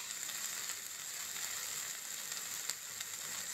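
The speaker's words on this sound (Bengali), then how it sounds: "এই মশলাগুলোকে কিন্তু খুব ভালো করে কষিয়ে নিতে হবে।" Spices sizzling steadily in hot oil for a pomfret fish curry, a continuous bright frying hiss at even level with faint scraping ticks, no voices.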